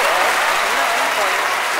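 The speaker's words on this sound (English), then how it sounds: "He deserves all the accolades and all the credit the crowd are giving him right now." A stadium crowd at a London 2012 skeet shooting event in a video game bursts into loud, steady applause that fills the whole moment without a break.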